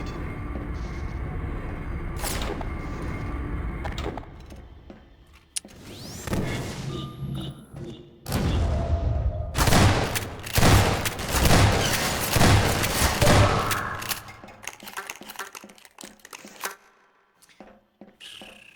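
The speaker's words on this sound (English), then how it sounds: "Who's shooting me?" Gunfire in the video game Half-Life 2 comes in rapid bursts of shots, loud and close, clustered in the middle of the clip with heavy impacts and game effects around them.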